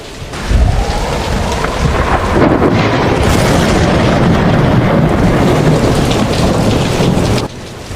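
Heavy rain pours steadily while a deep rumble of thunder rolls through, loud and close, before the downpour eases to a softer hiss.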